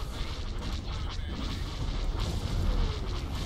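Muffled booms and crashes rumble from a Star Wars Republic at War space battle, a continuous low, dense wash of distant explosions and weapon fire with no clear talk.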